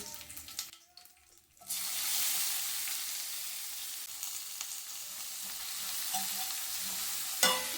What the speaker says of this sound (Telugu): ఎర్రగడ్డలు అనేది ఇలా దోరగా వేగినాక